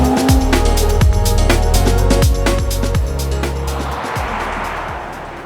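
A 2024 Nissan Z Performance with manual transmission pulls hard, its turbocharged engine revving loud and close through several rising gear pulls, with the turbo spooling and whooshing as the revs fall away near the end.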